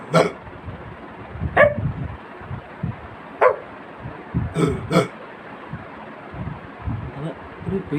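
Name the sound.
person imitating a dog barking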